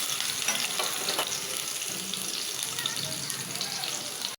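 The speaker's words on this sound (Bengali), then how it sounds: "পেঁয়াজ একটু ভাজা ভাজা হইলে আমি দিয়ে দিব ডিম।" Onions sizzle in a pan at close range, a constant bright crackle with a few soft stirring scrapes early on, cutting off abruptly at the end; nobody speaks.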